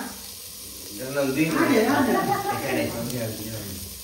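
Onions frying in hot oil give off a steady hissing sizzle that swells in the middle, partly buried under a person talking throughout.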